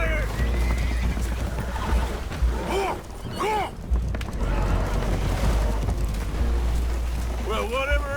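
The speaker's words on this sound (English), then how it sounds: "Horses are spooked" Spooked horses in Red Dead Redemption 2 neigh and whinny in several sharp, rising calls aboard a damaged boat taking on water, over a low rumbling engine-like drone, with a voice speaking between them.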